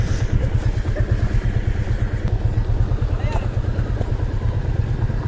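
A motorbike is ridden on a hill road near Erachalpara waterfalls, with a loud, close, continuous engine drone and road rumble throughout, while a person talks over it.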